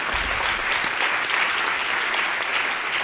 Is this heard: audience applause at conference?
yes